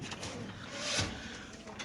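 A pair of Indonesian racer pigeons, a hen among them, cooing softly at close range, with a brief louder swell of calls near the middle over a low murmur.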